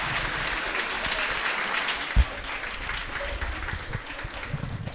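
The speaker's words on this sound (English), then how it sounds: "give them a rousing round of applause" An audience at a school prize-giving ceremony applauds in a dense, steady wash of clapping at moderate volume, with one sharp thump partway through.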